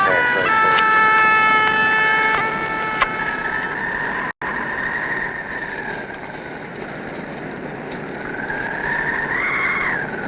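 A bagpipe played outdoors high in the mountains at 13,000 feet gives a loud, continuous reedy drone with a held bright melody note that bends and shifts, a brief dropout midway, and no talking.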